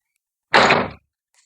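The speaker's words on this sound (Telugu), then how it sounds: "కాలేసేసి తలుపు వేసేస్తాను." A door is pulled shut in a house with a single short thud, close and loud, followed by near silence.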